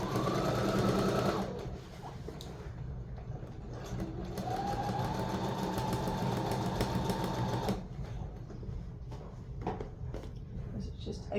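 Sewing machine run by foot pedal, stitching a decorative throw cushion: a loud run of fast stitching, then a pause, then a long steady whirring stretch that stops, with short bursts and a soft voice near the end.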